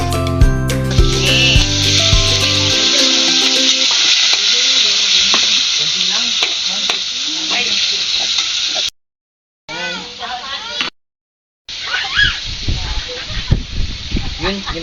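Garlic and onion sizzle steadily in a pan while being stirred, a loud hiss that opens over a short stretch of music, then cuts out twice in brief silent gaps before returning with voices talking over it.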